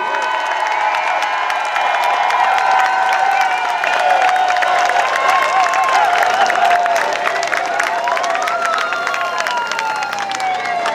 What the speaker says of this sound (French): Je pense qu'ils sont contents, les policiers, là, de se faire applaudir comme ça